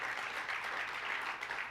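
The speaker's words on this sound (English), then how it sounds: "Let's give another round of applause to our president" Sustained audience applause fills a hall at a lifetime achievement award ceremony, a dense, steady wash of many hands clapping at even loudness throughout, with no voices rising above it.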